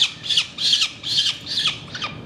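Peregrine falcon held for leg banding, giving four or five loud, harsh squawks in a quick rhythmic series, close up with little else around.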